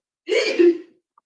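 One sharp sneeze, close and fairly loud, bursting out and fading within a second.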